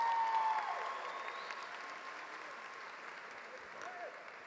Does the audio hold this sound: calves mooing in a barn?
no